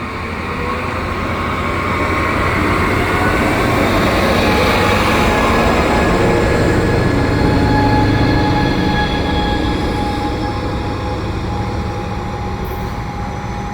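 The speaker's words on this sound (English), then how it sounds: "So they're putting these Charger locomotives now on the Vaudreuil line." At Valois station on the Vaudreuil commuter line, an EXO passenger train hauled by a Charger locomotive rolls steadily past, giving a loud, continuous rumble of wheels and cars with faint squealing tones throughout.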